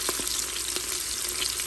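Onions fry in a pot with a steady, dense sizzle and crackle, close and continuous, with a few faint stirring clicks and no talk.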